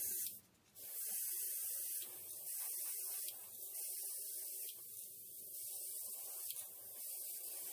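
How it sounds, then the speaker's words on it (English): An airbrush hisses steadily while paint goes onto a translucent jerkbait minnow fishing lure, in a series of sustained sprays with short breaks between them and no talking. "this airbrush is really bad"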